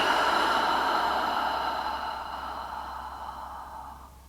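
A long, deep exhale during a slow-flow vinyasa yoga practice in standing mountain pose, one steady breath out that starts strong and fades gradually over about four seconds, close with no talk.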